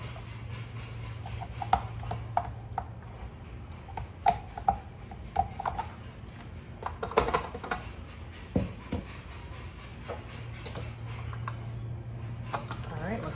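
Spelt flour chocolate chip cookie dough is stirred in a bowl, giving scattered clinks and scraping taps of a utensil against the dish over a steady low hum, fairly close and irregular.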